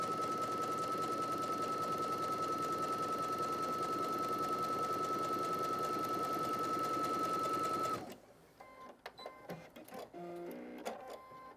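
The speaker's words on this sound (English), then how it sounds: "stitch a zigzag stitch on your sewing machine" A sewing machine stitches a zigzag stitch on fabric for about eight seconds with a constant mechanical whir and high hum, then stops, leaving quieter shuffling and handling noises.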